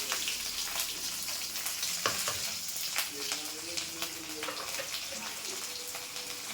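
Chopped onion dropped into hot oil for a broad bean stir-fry gives a loud, steady sizzle and hiss that runs without a break, with a few scraping stirs and clicks of the spoon.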